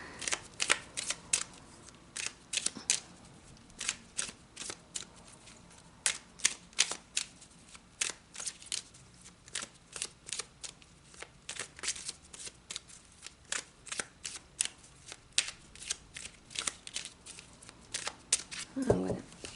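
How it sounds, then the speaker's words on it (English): A mini tarot card deck is shuffled by hand in a long run of crisp, rapid card riffles and slaps, close and clear, with no talking. "So I'm gonna shuffle this mini deck."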